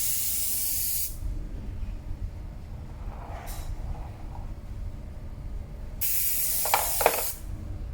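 A Humbrol basic airbrush sprays paint in short hissing bursts, one near second-long burst at the start and another longer one later, with quiet gaps between.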